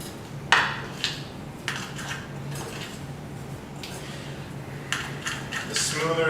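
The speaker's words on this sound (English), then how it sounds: "And I'm just using a spoon to stir this up." A spoon stirring banana protein pancake batter in a bowl, producing light scattered clinks and scraping taps against the bowl, fairly quiet, with a voice talking over it.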